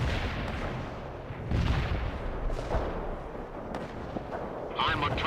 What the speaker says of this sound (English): Launch the 85 missile.